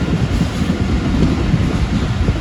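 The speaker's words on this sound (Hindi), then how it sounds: "फिर हमारी ट्रेन यहाँ पर स्लो हो गई है।" The Pakistan Express passenger train slows at a railway station, a loud continuous low rumble of wheels and carriages rolling on track, steady throughout with no talk.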